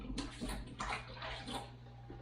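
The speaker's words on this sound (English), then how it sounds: "So let me wash my hands." Tap water running steadily into a sink during hand washing in a home kitchen while baking Christmas cookies, a soft close splashing hiss with faint sloshing surges.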